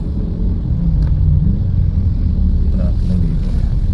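Road traffic heard from inside a moving car comes through as a loud, steady low rumble of engine and tyres, with faint passing vehicle sounds on top.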